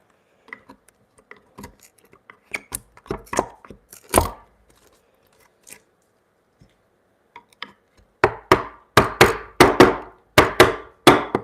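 A mallet strikes wood during a hand-tool mallet repair, first in scattered irregular taps and a few harder knocks, then after a pause a quick run of about eight loud, evenly spaced blows, close and alone.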